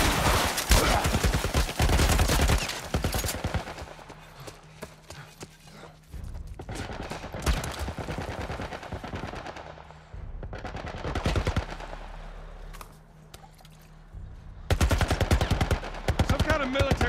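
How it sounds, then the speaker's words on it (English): A military turret machine gun rattles off rapid bursts in The Last of Us, with loud volleys at the start and end separated by quieter stretches and brief shouting. "Some kind of military turret."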